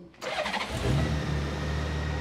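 A Honda Goldwing six-cylinder motorcycle engine starts after a brief starter whir, then catches and settles into a steady, smooth idle at close range, no talk.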